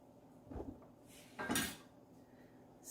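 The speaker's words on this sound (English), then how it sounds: "with the avocado, I just use my knife" A kitchen knife cuts into an avocado for homemade guacamole, giving two short, soft clicking strikes about a second apart, fairly faint and close, with no talk.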